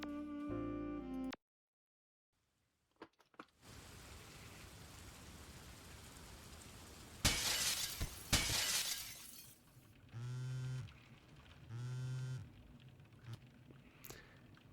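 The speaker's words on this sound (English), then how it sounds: "Did you just get thrown out of a plate glass window?" A plate glass window shatters in the video game Tactical Breach Wizards, a loud crash of breaking glass over a steady rain-like hiss, with brief tonal game sounds before and after.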